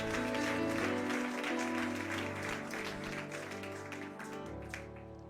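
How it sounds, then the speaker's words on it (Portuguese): Church congregation applauding during an evening worship service, steady clapping blended under sustained organ or keyboard chords that hold throughout. "Você pode aplaudir o nome do Senhor?"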